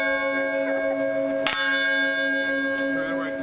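A loud church bell rings with a long, sustained humming tone, one fresh strike midway renewing the sound.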